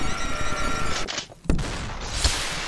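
Shotgun fire in the video game SUPERHOT, a few sharp blasts standing out over a dense, noisy game background, one strong shot in the middle and a softer one after it.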